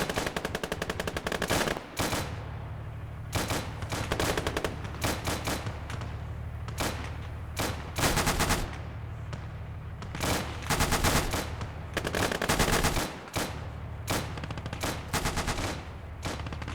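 Sustained machine gun fire in the WWII strategy game Gates of Hell, British forces with the Valour mod: long rattling automatic bursts broken by brief pauses, loud and close, with no talk.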